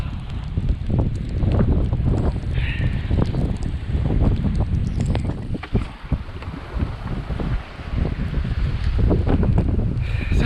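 A sudden squall of about 35 to 40 knots slams into a sailboat at a narrow channel entrance. Loud, constant wind roars and buffets the microphone, with rigging and water noise underneath.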